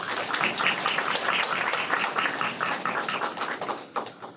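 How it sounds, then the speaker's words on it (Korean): An audience at a Seoul youth policy forum applauding panel questioners and panelists: dense, steady clapping from a crowd, fairly loud and continuous, tapering slightly toward the end. "그동안 우리 패널 질의응답 해주신 우리 그 질문자들 그리고 답변해 주신 우리 패널분들께 큰 박수 부탁드리겠습니다."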